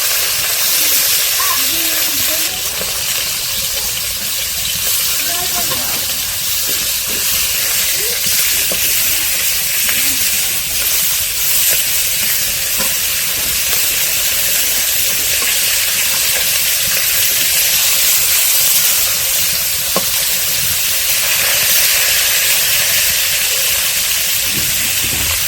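Fish fry in hot oil in a village kitchen, with a continuous, even sizzling hiss heard up close for the whole stretch.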